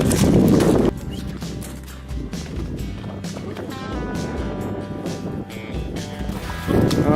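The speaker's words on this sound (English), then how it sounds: "let's see if these horses are gonna bring us to the other side or not." Horses carrying riders across a river crossing in Mongolia, with steady hoof and splashing sounds continuing throughout, louder bursts at the start and end, and no talking.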